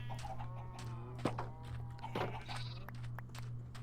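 Chickens in Minecraft cluck softly in short bursts over a steady low hum, a few separate clucks spaced through the moment.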